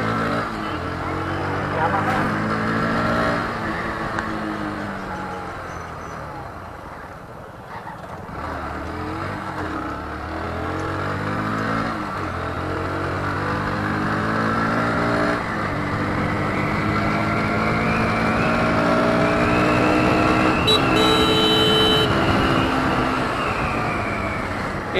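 A Bajaj Pulsar NS 125 motorcycle rides along a road, its engine droning steadily and rising in pitch for the full stretch, with voices talking over it.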